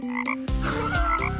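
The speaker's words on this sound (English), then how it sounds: "Yes, this is a frog." A frog croaks loudly and repeatedly in quick bursts, heard up close and alone with no talking.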